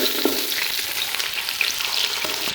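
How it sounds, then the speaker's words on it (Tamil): Steady, close sizzling of finely chopped onion frying in a hot pan, a continuous crackling hiss with small pops, no voices. "இப்போ இந்த வெங்காயத்தை வந்து பொன்னிறமாக வதக்கக்கூடாது"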